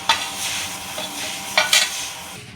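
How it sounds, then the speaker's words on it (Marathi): Vermicelli stirred into boiling milk for mango-flavoured kheer, a continuous wet scraping and swishing with a few sharper spoon strokes against the pot, close and steady, no voices. "आता आपण याच्यात शेवया घातलेल्या आहेत तर ह्या आपण नरम होईपर्यंत जरा ढवळत राहूया"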